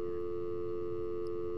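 A steady telephone busy tone in the video game Heavy Rain hums without a break, loud and close, with nothing else over it.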